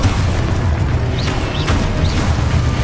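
An Exposo spell going off in Hogwarts Legacy, with a loud booming blast and rolling rumble that fill the moment, plus a few high whooshing swirls on top.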